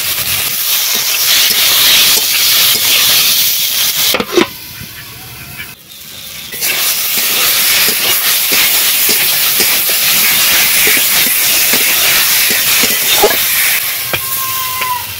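Tomatoes sizzle and steam in a hot wok with a few mustard seeds over a wood-fired clay stove, a loud continuous hiss that dips briefly partway through before returning, with faint crackles throughout.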